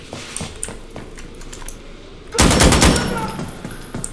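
Automatic AK rifle fire in the tactical shooter game Insurgency: Sandstorm, a loud sustained burst that erupts after quieter scattered shots and clatter, ringing out close and dense.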